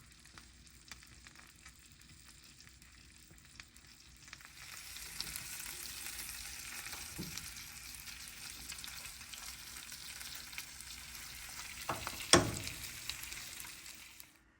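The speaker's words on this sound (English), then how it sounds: "So we're just going to let the bottom get grilled, and when it's ready, we will flip them." A buttered Lucille sandwich sizzles gently in a pan, a soft steady hiss that swells after a few seconds, with a brief scrape or clink near the end and no talking.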